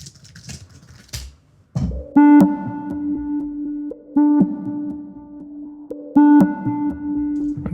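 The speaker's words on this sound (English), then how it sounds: "we've got our ice cream van pulse." A synthesized rhythmic pulse built from an ice cream van recording, with sustained harmonic tones that restart in loud swells roughly every two seconds, following a short burst of scratchy noise at the start.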